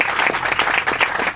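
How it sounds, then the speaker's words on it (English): Audience clapping for Chris Nichols at a birthday event at Hollywood Forever Cemetery, a short dense burst of applause at moderate distance. "give him a nice round of applause"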